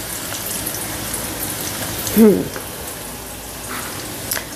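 Cauliflower pieces frying in a pan for crispy cauliflower, a soft continuous sizzle with a brief louder burst near the middle and faint clinks, no talk over it.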